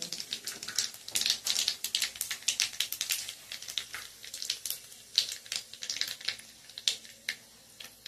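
Black cumin seeds sizzling and popping in hot oil in a home kitchen pan, a quick irregular crackle of sharp pops over a soft hiss, with no talk.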